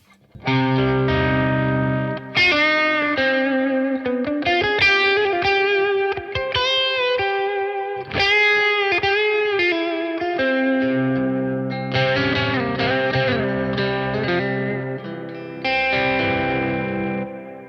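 An electric guitar played through a Boss OD-200 overdrive pedal with the gain turned down gives mildly crunchy chords and single-note phrases, loud and continuous with brief gaps between lines.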